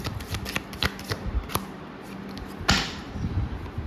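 A deck of tarot cards is shuffled close by, with quick papery riffles and flicks, a few sharper snaps, and one louder burst of cards near the end.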